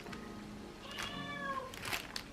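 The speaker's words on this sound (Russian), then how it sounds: "котенька с ума немножко сходит, все хорошо." An agitated domestic cat meows a few times in quick succession, drawn-out rising and falling cries close by against a quiet room, with no one speaking.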